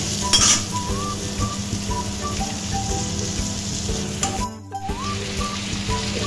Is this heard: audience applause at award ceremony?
no